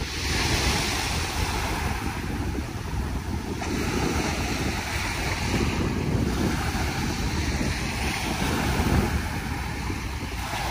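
Sea waves wash steadily onto Manila Bay's Dolomite Beach, a continuous broadband surf roar with wind buffeting the microphone, loud and unbroken with no talking.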